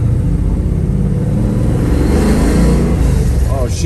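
A 1972 Chevrolet Nova's engine roars loudly and steadily as the car accelerates, the rumbling pitch rising through the manual gears, close and continuous.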